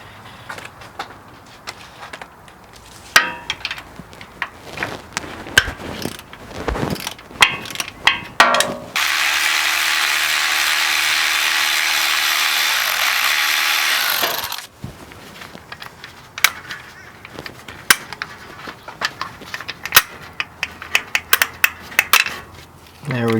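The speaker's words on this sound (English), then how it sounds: "So there's the 13 millimeter we need to take out." A ratchet works a 13 mm nut loose on a Ford F-150 5.0 Coyote 4x4 during an oil pan gasket job, giving close bursts of quick clicking with a steady stretch of hissing noise in the middle.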